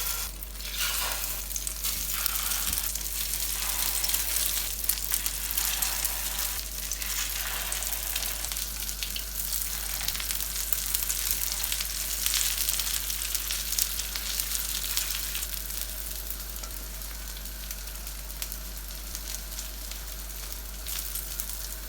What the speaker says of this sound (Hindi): बस इसी तरह हमने सारे ही कबाब एग में डिप कर करके फ्राई कर लेने हैं।